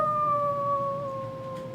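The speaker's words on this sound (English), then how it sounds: "It pierces through the sound of a wolf's howl." A single wolf howl rings out, long and sustained with a slightly falling pitch, clear and alone against a quiet background.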